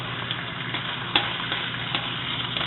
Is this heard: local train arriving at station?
no